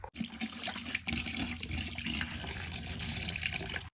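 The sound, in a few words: water poured into bucket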